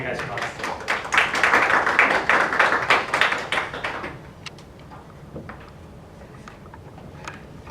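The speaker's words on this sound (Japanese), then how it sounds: "拍手でお呼びしましょう" Audience at an insurance company business seminar clapping in a dense burst of applause to welcome a speaker to the front, fading after about four seconds into scattered claps and room noise.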